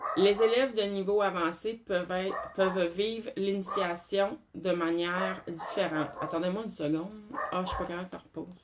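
A pet dog barks indoors in bursts, partly masked by someone speaking French almost continuously.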